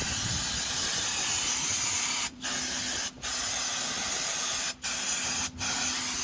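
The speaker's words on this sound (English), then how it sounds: "grab a brake cleaner, give that a good little spray down" Steady, loud aerosol hiss of a brake cleaner spray can on a Ford Escape V6 engine, close up, cut by four brief pauses as the nozzle is released and pressed again.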